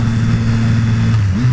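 A Triumph Street Triple 765R three-cylinder motorcycle engine drones loud and close with a steady, even tone, then its pitch shifts near the end as the revs change.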